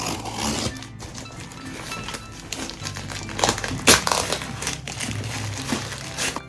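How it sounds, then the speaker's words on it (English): A package of stickers is torn open at close range, its plastic wrapping giving off continuous crinkling and crackling with a few sharper rips, and no one speaks. "Let's open the stickers."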